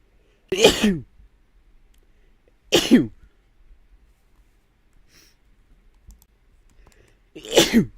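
Three sharp sneezes ring out close to the microphone, spaced a couple of seconds apart, with near silence between them.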